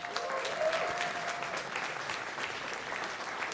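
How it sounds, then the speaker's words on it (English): A crowd at a talk at A MAZE. Berlin 2022 claps steadily in sustained applause, fairly soft and distant, with no voices standing out. "open this up with a big round of applause again for Moshe and Gili."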